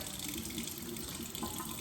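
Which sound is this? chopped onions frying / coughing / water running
water running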